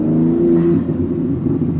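A modified BMW M3 G80 in M mode accelerates hard, its engine note loud and close with a rising rev that breaks into a rougher, burbling growl after the shift.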